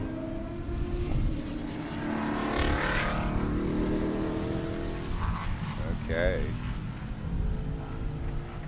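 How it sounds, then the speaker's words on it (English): Race cars at Sebring in a big bore race roar past, their engine notes rising and falling as they pass, under commentators' voices, with one brief spoken word. "it sounds like the microphones are picking up the sound of the cars pretty good"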